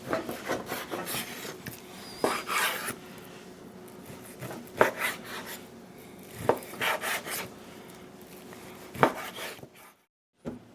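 Knife slicing beef brisket into 1-inch cubes on a cutting board, with soft rasping strokes and sharper chops at a steady, unhurried pace, close and fairly quiet, ending in a short silence.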